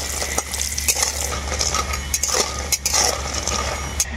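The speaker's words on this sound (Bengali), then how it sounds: "বড়িগুলোই প্রথমে আমি ভেজে নেব। বড়িগুলোকে আমি খুব ভালো করেই ভাজবো, একদম লাল লাল করে।" Lentil dumplings (bori) fry in hot oil with a soft, steady sizzle, broken by light clinks and scrapes of a utensil against the pan, close by and with no talking.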